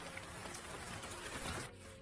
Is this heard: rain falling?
yes